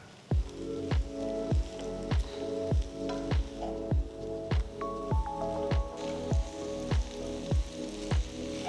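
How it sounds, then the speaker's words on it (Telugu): Stir-fried chicken noodles with vegetables and spring onions tossed in a pan with two spatulas, giving a steady run of sharp scraping and clacking strikes about twice a second over a soft sizzle, close and fairly loud. "2 స్పాచులాస్ యూజ్ చేస్తే ఇవన్నీ చాలా ఈజీగా మిక్స్ అవుతాయి."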